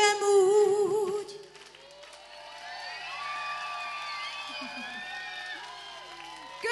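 A live concert crowd at United Fest 2022 in Hungary cheers, whoops and applauds as the band's music trails off, with a sustained wash of shouting from the audience.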